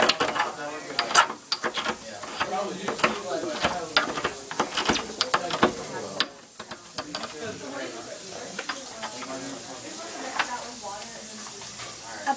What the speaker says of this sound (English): Here is how you grind rock salt with a pestle.